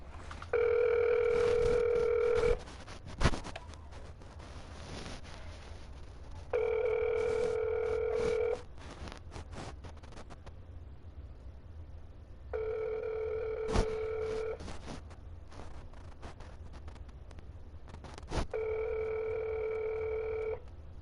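A phone call's ringing tone sounds four times, each ring lasting about two seconds with long, even gaps between them. It is clear and prominent over faint background noise.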